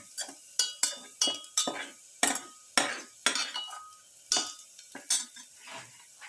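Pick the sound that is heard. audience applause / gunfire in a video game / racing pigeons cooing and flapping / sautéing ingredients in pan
sautéing ingredients in pan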